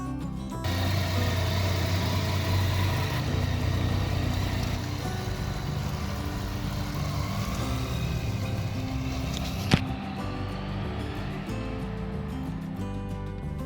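A Yamaha FZ09 (MT09) motorcycle engine runs at a steady mid-pitched idle and rumble for the whole stretch, fairly close, with a single sharp click near the end and no talk.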